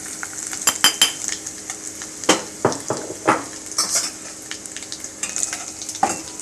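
Curry leaves and peanut powder sizzling in a pan while a spoon scrapes and clinks against the metal, giving sharp stirring knocks over a continuous frying hiss, close and fairly loud.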